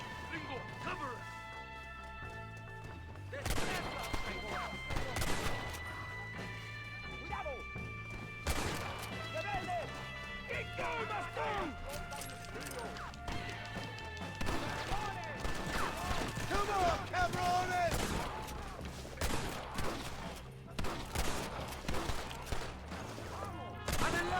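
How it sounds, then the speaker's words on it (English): Irregular gunfire in the Western game Red Dead Redemption, sharp shots and bursts scattered over the span amid music and game noise, with a person talking over parts of it. "Stop shooting at me!"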